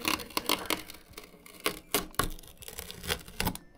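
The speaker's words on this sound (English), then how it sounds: "we can begin removing the foam and the tape that it ships with" Foam and packing tape being pulled off a newly unboxed AMS heater unit: a run of sharp ripping and crinkling bursts in quick irregular succession, close and fairly loud, with no voices.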